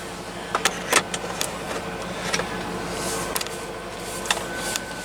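A dump truck's diesel engine idles after starting, a steady low rumble under scattered clicks and rattles, fairly close and moderately loud.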